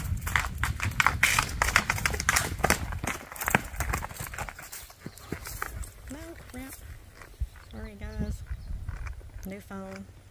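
Hooves of a bay and white tobiano gaited horse beat in a quick, steady gait rhythm, mixed with rustling and background noise, and a few short whinny-like tonal calls near the end, on a hot day in Kentucky.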